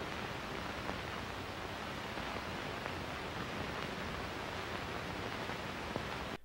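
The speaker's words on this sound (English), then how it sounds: "The deafening white noise as the camera slowly trucks down is effectively creepy." Loud, steady, unbroken white noise fills a scene in an old public-domain horror film, a dense hiss that stays constant without pauses or rhythm.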